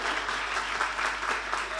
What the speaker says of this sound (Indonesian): Yang percaya beri tepuk tangan dulu buat Tuhan.